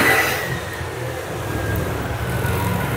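Road traffic passes outside, a steady low rumble of car engines with a faint rise as a vehicle accelerates, heard alone at moderate distance.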